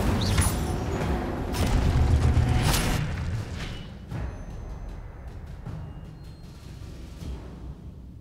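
Hogwarts Legacy spellcasting: an Incendio fire spell lands among several whooshing, booming bursts, loud at first and then a string of sharper, fainter cracks and impacts over a low rumble.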